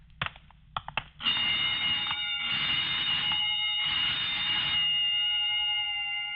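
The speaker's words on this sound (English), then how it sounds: "just testing the burglar alarm, I guess" A burglar alarm in a radio drama sounds after a few soft knocks, a loud steady electronic ringing tone that stops and restarts in long bursts, then holds steadily.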